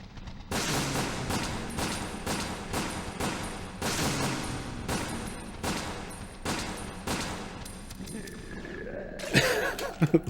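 Charged particle rifle fired in Resident Evil Dead Aim, a run of sharp, loud bursts at irregular intervals, followed by a rising electronic whine and a few final clicks.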